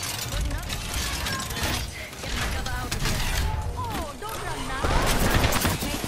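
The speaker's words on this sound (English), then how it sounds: "They're shooting from over here." Dense, continuous gunfire from a video game firefight, loud and busy with clattering mechanical noises, a voice talking underneath in spots.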